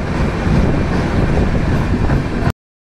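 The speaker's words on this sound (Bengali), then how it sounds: "আর আমাদের ট্রেন এখন বেলদা ছেড়ে বেরোচ্ছে" The 12821 Dhauli Superfast Express pulls out of Belda on the run from Shalimar to Puri, giving a loud, dense, continuous rolling rumble for about two and a half seconds before it cuts off abruptly.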